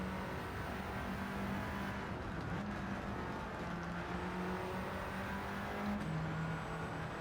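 Audi TT race car in Gran Turismo 7 on Tokyo Expressway, a steady droning engine note held at high revs with slight pitch shifts through a gear change, continuous and close.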